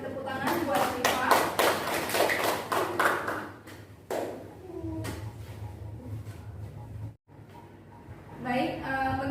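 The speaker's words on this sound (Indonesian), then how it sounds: "kita beri tepuk tangan buat Syifa" A classroom gives a short burst of applause for a student, a few seconds of mixed claps that fade out, followed by quieter room noise and a teacher's voice.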